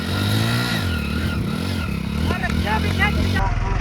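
A motorcycle engine rumbles and revs loudly nearby, its pitch rising and falling, while people talk over it.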